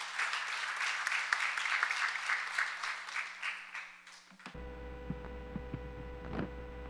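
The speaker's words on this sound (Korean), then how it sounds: "우리 ER 오스터 씨 박수로 맞이해 주시면 감사하겠습니다" An audience at a 2018 international blockchain forum applauds to welcome speaker ER Oster. The clapping is moderately distant and quiet over a low hum, then cuts off abruptly, leaving a hushed room with electrical hum and a few faint noises.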